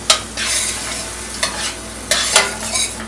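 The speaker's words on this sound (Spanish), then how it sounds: "Me encanta el olor del sofrito cuando se está sofriendo." Sofrito sizzles and crackles in a pan for Puerto Rican pork bites, steady frying hiss broken by several bursts of stirring, close and moderately loud, with no talking.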